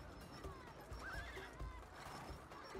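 A horse whinnies during a race in the video game It Takes Two, a high, wavering neigh over a bed of rumbling hoofbeats and background game noise.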